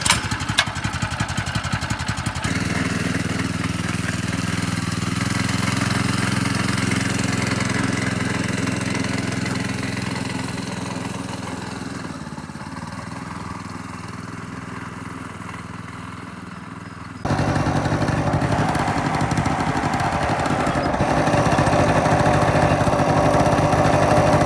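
A small restored minibike engine runs with a twist throttle, a loud buzzing idle that climbs and wavers as the throttle changes, then jumps abruptly louder partway through, with no talking.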